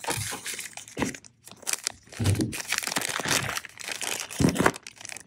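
Plastic packaging for a Phoenix Weaponry red dot mount for a Henry .357 rifle being unwrapped, close crinkling and crunching in irregular bursts.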